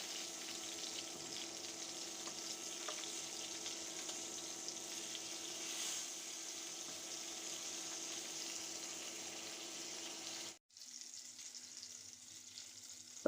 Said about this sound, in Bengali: এখন আমি ডিম মাছের একটা লেজ আর লুকাগুলো ভেজে নিচ্ছি